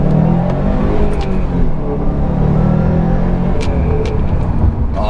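Subaru WRX STI engine pulling hard in first gear under full throttle, heard from inside the car as a loud rising rumble with faint clicks.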